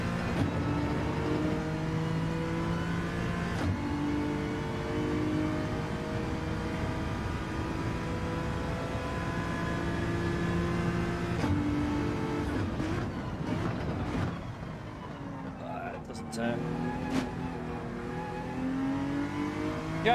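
Race car engines in Gran Turismo 7 during a nine-lap race, a steady, continuous drone of engine tones that rise and fall with gear changes and revving, with a few brief shifts near the end.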